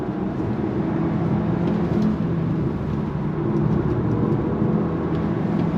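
A 2025 Alfa Romeo Tonale Tributo Italiano luxury sport SUV taking a decreasing-radius corner, a steady loud interior drone of engine and road noise with no talking.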